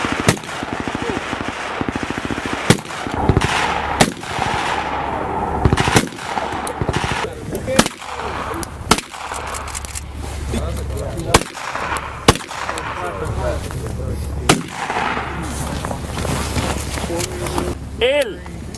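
Rifle fire from cold-weather target shooting in Norway cracks out in repeated sharp, loud shots at irregular intervals over a steady outdoor rumble, with people talking between and under the shots.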